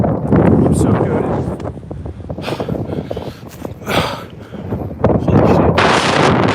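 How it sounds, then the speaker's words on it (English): Strong headwind gusts across an outdoor disc golf course in about 25 mph winds, roaring and buffeting the microphone steadily in loud, rising and falling waves, with no speech. "Big headwind."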